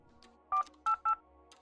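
Telephone keypad dialing in the video game Escape Academy: three clear, evenly spaced electronic tones, each ringing briefly, with faint softer clicks between them.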